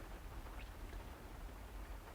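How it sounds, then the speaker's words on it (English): Rain falls outside as a soft, even, hissing wash of noise that stays steady and faint throughout, with no voices. "I wonder if the rain is affecting the audio"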